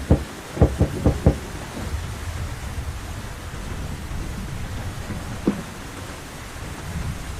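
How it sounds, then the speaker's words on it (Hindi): Knocking on a nest door in an animated jungle story set in the rain, four quick knocks at the start followed by one more, over steady rain and a low rumble. "घोंसले का दरवाजा खटखटाता है।"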